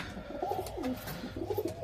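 Several green Giribaz pigeons coo nearby, a series of soft, rolling warbles rising and falling over about two seconds, quiet and unaccompanied by speech.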